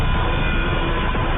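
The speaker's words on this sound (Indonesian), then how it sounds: "Di tengah kepanikan karena kereta api mendekat" A train approaches an unguarded level crossing where a white car is stuck on the tracks, a loud, dense, continuous rumble and roar that fills the whole stretch without pause or talking.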